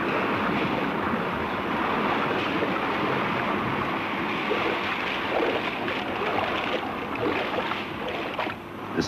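Waves churn in a rough water test tank around a model patrol boat hull, a continuous loud broadband rush and wash of water that holds steady throughout.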